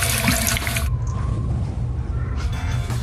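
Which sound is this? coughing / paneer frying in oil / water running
water running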